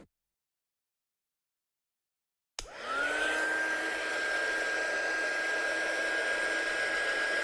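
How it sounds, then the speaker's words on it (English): A heat embossing tool blows hot air over a handmade card, switching on abruptly after silence and then running as a steady, whirring hiss with a thin high whine to the end. "I'm just going to heat emboss this now."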